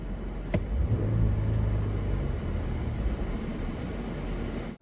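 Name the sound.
SUV engine revving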